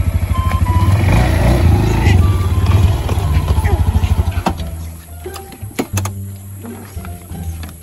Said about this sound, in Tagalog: Ako sa iparking yung motor diya.